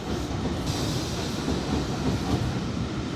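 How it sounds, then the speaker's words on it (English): Dense, steady rumble and rattle of train wheels rolling into Quorn and Woodhouse station, loud and close, with a continuous low roar and faint clacking. "As the train's wheels come into each section, they make those big bulbs light up"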